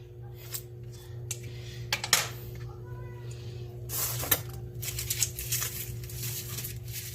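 A knife slicing freshly harvested pechay in a home kitchen, with a few sharp cutting clicks and taps over a steady background hum and occasional faint talk.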